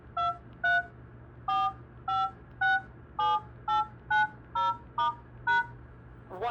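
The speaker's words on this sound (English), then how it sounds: "Enter as many as 75 DTMF keys," Telephone keypad DTMF tones being dialed into a call-recording app, twelve crisp beeps in a steady sequence with short gaps between them, clear and close.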